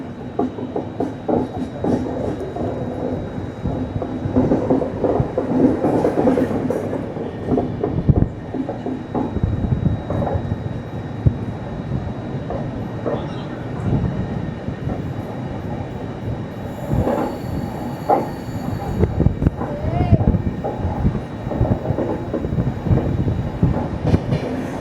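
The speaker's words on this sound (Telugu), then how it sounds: "మన ట్రైన్ బంగారుపేట జంక్షన్ అయితే స్కిప్ అయితే కొడుతుంది." The SMVB–Howrah AC superfast express runs through Bangarapet junction without stopping. A continuous rumble of wheels and carriages, with rhythmic rail clatter and occasional high squeals, is heard from on board.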